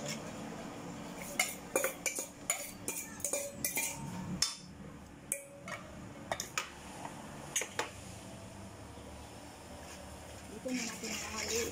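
A spoon clatters and scrapes against a pot as papaya atsara is stirred with garlic, giving a run of irregular metallic clinks and knocks, some sharp and close, while a person talks over the cooking.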